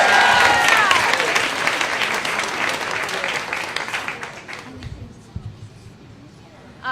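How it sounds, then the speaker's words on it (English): Loud audience applause at a Moth StorySlam storytelling event, a dense crowd clapping that fades gradually over several seconds into quieter scattered claps, with a voice briefly heard over it near the end. "big round of applause for Alisha."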